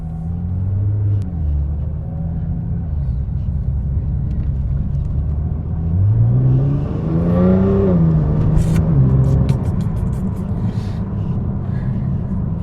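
A Nissan GT-R R35 driving in comfort suspension mode, a deep continuous rumble with the engine note rising and swelling through a rev in the middle before settling back to a steady cruise.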